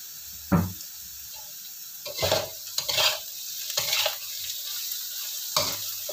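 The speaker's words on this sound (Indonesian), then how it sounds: "Nah ini tumis sampai harum" Tempeh and water spinach sautéing in a pan with kencur seasoning: a soft steady sizzle broken by several scraping, stirring bursts of the spatula, close and without talk.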